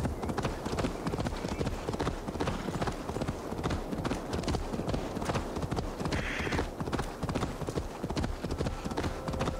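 Hooves of a horse ridden in Assassin's Creed Valhalla clop in a fast, steady rhythm that runs the whole length, close and prominent with no clear talk over it.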